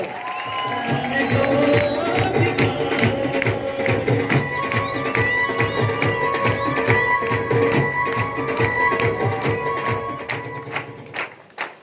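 An audience rises to give loud applause for Trilok Chand Chhabra at a success celebration in Bhilwara, with steady rhythmic clapping and crowd cheering that runs for about eleven seconds before tapering off.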